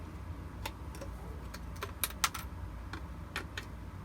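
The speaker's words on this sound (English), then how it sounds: "I force the scissors in there" Scissors are forced into thick plastic stormtrooper armor, giving a handful of sharp, irregular snips and clicks spread over several seconds, close and fairly quiet.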